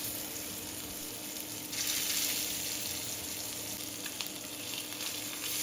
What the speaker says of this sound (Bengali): গরম তেলে এক এক করে ডিমগুলোকে দিয়ে দিব।